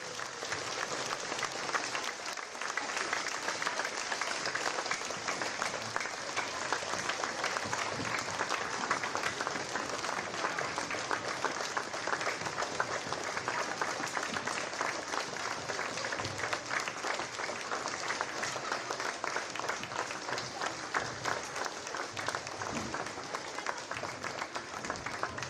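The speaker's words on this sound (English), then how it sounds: "Let's give a big round of applause to our veterans who are here today." A school assembly audience gives a long, steady round of applause for veterans on Veterans Day, many hands clapping together in a continuous roar that holds evenly throughout.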